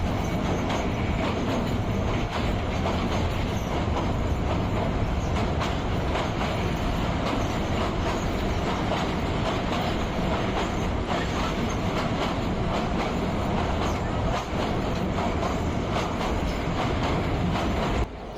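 Titas commuter train rumbling across the Bhairab rail bridge, a loud, steady roar of wheels and carriages with faint clickety-clack, sustained without a break and no voices.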